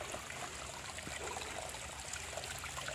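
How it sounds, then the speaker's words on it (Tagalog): A small stream of water trickles along a path in a Hong Kong country park, a quiet, continuous babbling with light bubbling detail and no voices. "Konti lang yung tubig, guys."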